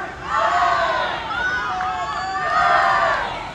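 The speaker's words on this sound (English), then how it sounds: "And the crowd loving it right now." A crowd at a girls' 11-and-under NFL Flag national championship cheers and shouts in rising and falling swells, loud and sustained, with a voice speaking over it.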